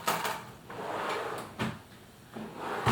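A drawer in a craft room desk slides open, with a few short scraping rattles and knocks close by, alone and with no talk.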